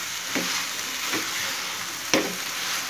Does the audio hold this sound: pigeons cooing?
no